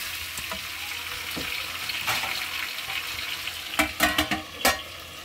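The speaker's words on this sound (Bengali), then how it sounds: "নেড়ে আমি একটু ঢাকা দিয়ে দেবো" Plum chutney being stirred in a pan, a steady low sizzle with a few sharp scraping strokes of the spoon clustered near the end, close and fairly quiet, no voices.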